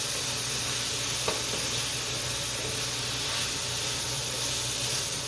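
Garlic, shallots and mushrooms sizzle in a pan with a dense, steady hiss and a faint stir partway through, close and continuous with no voices.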